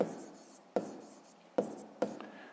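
Pen strokes on paper while writing out a math solution, scratchy rubbing strokes broken by four sharp taps as the pen touches down, close and quiet, with no voice.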